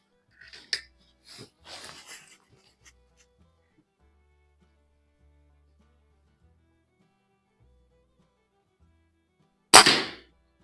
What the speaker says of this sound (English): I do like shooting with these single shot adapters though.